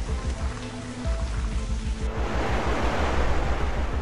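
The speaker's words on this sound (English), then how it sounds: "Powerful tropical rain gives the final blow." Heavy tropical rain pouring down in a dense, steady hiss that grows louder and fuller halfway through, with no voices.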